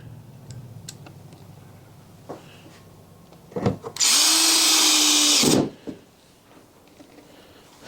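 A power drill whirs loudly for about a second and a half, preceded by a few clicks and handling knocks, with no talking.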